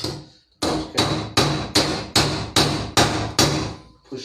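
Hammer blows shaping a metal piece on an anvil, eight sharp ringing strikes at a steady rhythm after a short pause, loud and close with decaying rings between hits.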